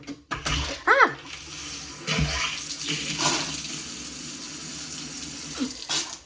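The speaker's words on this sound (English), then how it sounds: "I almost never never turn the water on at places." Water running from an old, low bathroom tap in a full bath, a steady splashing flow into the basin after a few short knocks and squeaks of the handle.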